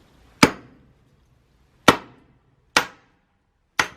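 Four sharp, ringing metal-on-metal blows of a sledgehammer driving an axe into firewood, spaced unevenly with quiet pauses and no talk.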